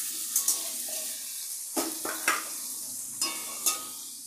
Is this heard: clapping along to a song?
no